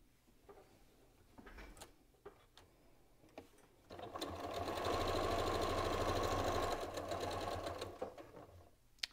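A domestic sewing machine runs in one long steady burst of rapid stitching, piecing log cabin quilt strips from jelly roll fabric, preceded by a few quiet handling clicks and taps.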